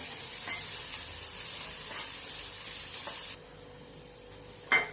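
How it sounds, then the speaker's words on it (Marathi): Capsicum and onion sauté in oil for paneer bhurji, giving a soft steady sizzle with light stirring that drops away abruptly, then a brief clatter at the end. "त्यामध्ये एक सिमला मिरची घालूया ती पण त्या तेलामध्ये कांद्याबरोबर परतून घेऊया"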